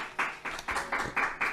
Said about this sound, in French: Applaudissez le Seigneur bien fort.